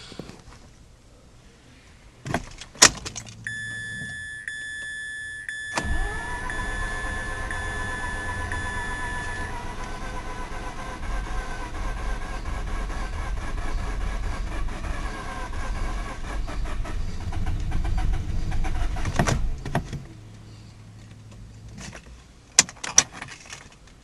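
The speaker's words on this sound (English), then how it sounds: "This one's got a bad misfire, probably a bad coil." Mazda RX8 rotary engine cranking while flooded with a bad misfire, a steady loud starter churn lasting about fourteen seconds with a rough, uneven drone, preceded and followed by brief clicks and a high electronic chime tone.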